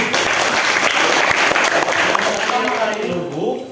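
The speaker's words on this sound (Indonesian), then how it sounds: "coba tepuk tangan dulu" A class of students claps together at the teacher's request, a dense burst of hand clapping that runs steadily for a few seconds and tapers slightly at the end, with some voices mixed in.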